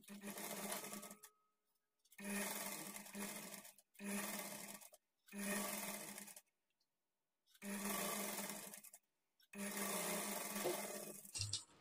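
A sewing machine stitching blouse fabric runs in six bursts of steady whirring, each lasting one to two seconds, with short silent gaps between them, heard close up with no talking.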